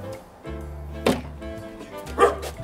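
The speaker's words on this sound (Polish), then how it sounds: "O, pieski szczekają." Dogs bark at a home, two sharp distinct barks about a second apart rising over a low steady background hum.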